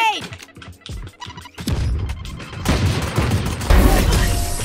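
A Raze grenade detonates in Valorant on the Split map, a cluster of loud booms and crashing blasts in quick succession, with game noise and a voice talking over parts of it.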